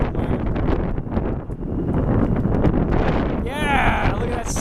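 Strong gusting wind roars across the microphone at Atlanta's Hartsfield airport during a wind advisory, a dense rumble that continues under people talking, with a 767 jet approaching.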